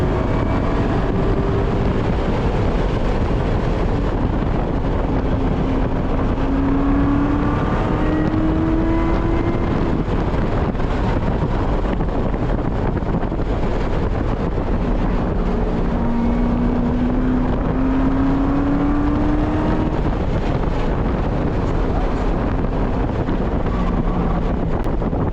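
A Corvette C7 Z06 engine roars steadily at speed on a race track, its pitch rising and falling through gear changes, with heavy wind rush throughout.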